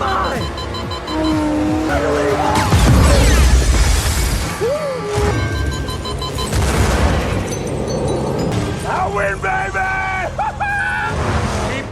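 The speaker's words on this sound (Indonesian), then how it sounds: "Dom memilih Isabel yang seketika itu mobil Diogo meledak" Dramatic Fast and Furious film soundtrack with cars roaring, tires screeching and a booming car explosion, layered under music and effects at high volume.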